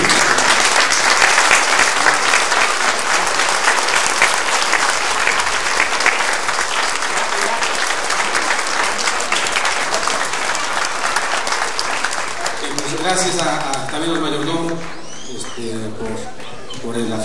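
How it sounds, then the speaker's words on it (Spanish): Congregation applauding during a festival mass for the Immaculate Conception in Santa María Chigmecatitlán, Puebla: dense, sustained clapping fills the church for about twelve seconds, then fades as voices and faint music take over. "Pues damos fuerte aplauso también a los mayordomos por todo lo que han realizado."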